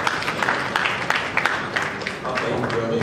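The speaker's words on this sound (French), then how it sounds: "On peut applaudir" A conference audience breaks into dense applause, many hands clapping together at close range, sustained for a few seconds before tapering slightly.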